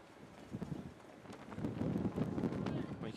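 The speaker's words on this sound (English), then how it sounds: "You can hear the wind blowing around." Wind buffets the microphone at an outdoor men's snowboard cross venue in Lake Placid, a low rumbling gusty roar that swells in the second half, with a distant announcer's voice under it.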